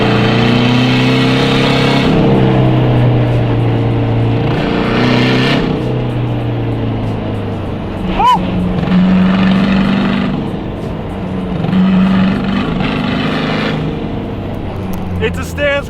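Engine drone from a lowered stance car running laps, a sustained hum that rises and falls as the car accelerates and eases off, with brief sharp transients midway.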